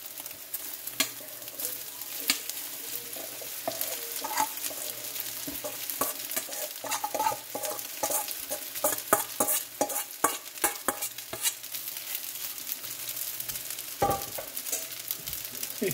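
Beef tapa being stirred in a frying pan, with a steady sizzle under repeated scraping and clinking strokes of a utensil, close and fairly loud throughout.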